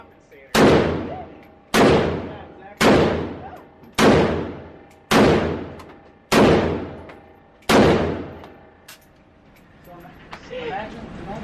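Seven loud, sharp gunshots fired at an indoor gun range, each cracking hard and ringing out with a decaying echo, spaced about a second apart, followed by faint chatter and movement.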